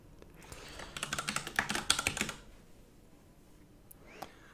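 Rapid keystrokes on a computer keyboard while writing code, a quick burst of clicky taps for about a second and a half, then quiet with one last faint tap.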